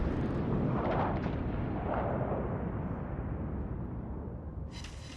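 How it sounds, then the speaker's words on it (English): Warship main guns firing in World of Warships Legends, a heavy deep boom followed by a rumbling, decaying roar of distant blasts, with a brief crackle near the end. "Fire the guns!"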